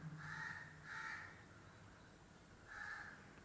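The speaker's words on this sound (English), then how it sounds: "Can you switch off that crow which is crowing at a distance?" A crow caws three times in the distance, two calls close together and then a third after a pause, faint against a quiet background.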